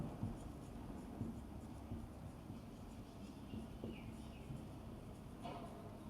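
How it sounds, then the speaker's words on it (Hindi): Pen or chalk scratches out a handwritten heading during a Class 12 maths lesson on differentiation, a faint, steady scraping under room hiss with no talking. "तो लिखते हैं हेडिंग"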